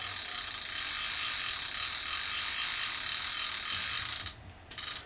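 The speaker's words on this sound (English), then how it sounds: "Let's put the clicker on, see how that sounds. It's not that loud." The clicker ratchet on a Penn 555 graphite fishing reel buzzes in a fast, continuous rattle of tiny clicks close up, then stops abruptly and gives a short final burst.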